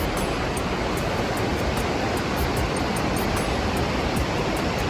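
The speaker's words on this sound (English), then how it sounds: "this is how the water is flowing right from the falls through this way" A river pours down from Snoqualmie Falls in the USA, a loud, dense and unbroken rush of water, close and steady throughout, with no voices over it.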